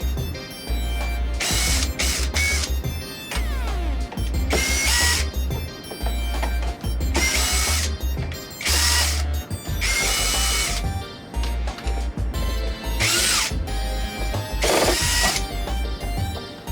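Power tool backing screws out of a water pressure pump kit, repeated whirring drill bursts with short pauses between them, loud and close, with no talk.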